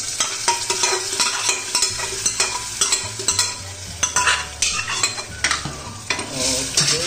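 Lentils for restaurant-style dal makhani being stirred into a hot pan: repeated close scraping and clattering stir strokes over a continuous sizzle, alone without talk.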